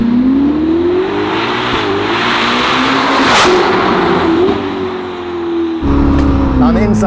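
Ferrari SF90 fitted with a Novitec exhaust system, loud and close, its engine holding a steady droning note with rising revs and a sharp change near the end, while a voice talks over it.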